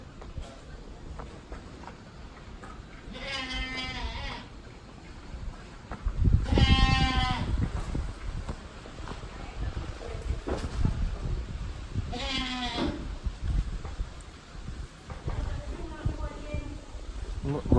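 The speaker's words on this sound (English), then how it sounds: "the goat is calling a kid" A goat on a Jamaican farm bleats repeatedly to call its kid, four wavering cries spaced a few seconds apart, fairly close and clear over outdoor background noise and occasional rustling.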